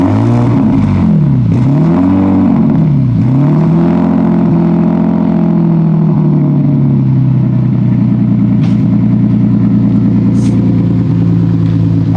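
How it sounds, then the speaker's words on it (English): A Nissan G35's engine fires up and revs through its exhaust, loud and close, with several throttle blips rising and falling before it settles into a steady, rumbling idle. "I'm gonna just get an exhaust start up here."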